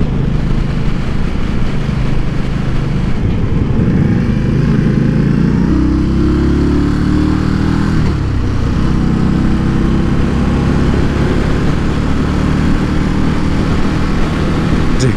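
A 2018 Indian Scout motorcycle is ridden on a test route, its engine droning loudly and steadily throughout with low rumbling pitch shifts as the rider works the throttle, plus wind noise.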